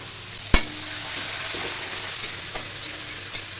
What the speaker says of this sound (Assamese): তো ইয়াতে এড কৰি দিম পিঁয়াজখিনি।